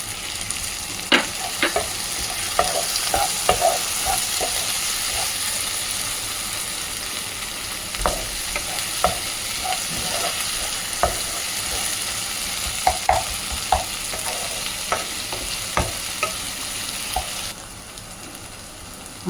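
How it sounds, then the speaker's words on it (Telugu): Mutton liver curry being fried and stirred in a pan, a steady low sizzle with frequent sharp clinks and scrapes of a spoon against the metal, fairly close and with no talking. "అందుకని మనం బాగా వేయించుకోవాలి వీటిని"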